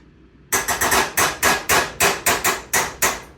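A rapid series of sharp hammer blows, about a dozen evenly spaced strikes ringing out loud and close after a brief quiet start.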